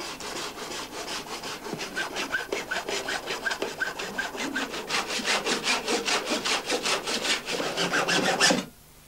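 A saw cuts rapidly through a pipe a short way below a foot in a 1995 rescue setting, with steady rhythmic back-and-forth strokes, loud and close, stopping abruptly at the end.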